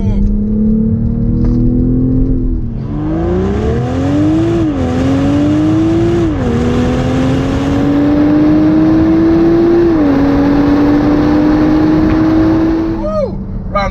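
A 2020 BMW X3 M40i accelerates hard up a hill. The engine rises loudly through the revs, with several gear changes breaking the climbing drone, and a voice can be heard over it.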